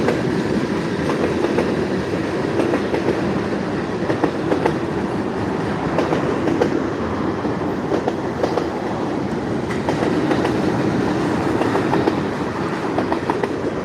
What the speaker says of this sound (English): that is the end of that there train